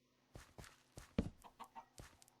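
A large chicken in the farming game Farming Valley clucks in a string of short, soft bursts, about seven quick clucks spaced unevenly, fairly close and alone against a quiet background.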